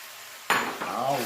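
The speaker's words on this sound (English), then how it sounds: "I'm going to add my Cajun sausage to the pan" Sliced, cubed Cajun sausage drops into a hot frying pan with a sharp clatter, then sizzles steadily while a utensil scrapes and stirs the pieces.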